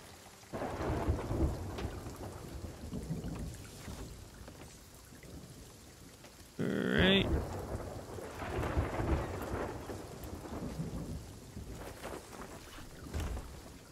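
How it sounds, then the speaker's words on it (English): A thunderstorm in the Sea of Thieves pirate game rumbles with low rolling thunder and steady rain, and a sudden sharp crack about halfway through gives way to continued heavy rumbling. "Storm."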